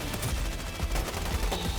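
Rapid automatic gunfire in the Roblox shooter Frontlines, dense overlapping bursts that fill the whole moment at steady loudness, with no voices heard.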